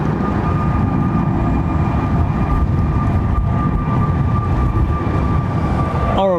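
Airliner with Rolls-Royce Trent 1000 engines at London Heathrow, a loud, harsh and gritty rumbling roar with a steady whine on top, continuous throughout, with a brief sharp sound at the very end.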